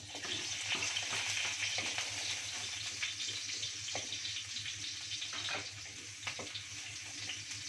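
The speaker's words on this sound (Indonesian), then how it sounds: "Kita goreng dulu bawang merah, bawang putih supaya masakannya harum." Shallots and garlic fry in a hot pan with a steady, loud sizzle and crackle lasting throughout, with occasional louder spits and stirring, no talking.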